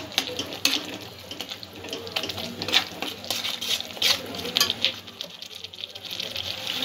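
Spices such as cumin and coriander powder being stirred together for a vegetable korma, a spoon scraping and swirling steadily in a bowl with soft irregular clinks and a faint background voice.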